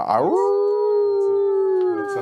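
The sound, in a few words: player imitating a monster's howl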